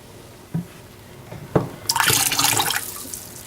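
White vinegar poured into water for washing fruit, heard as a couple of small taps and then a close, bright splashing pour lasting about a second before it fades.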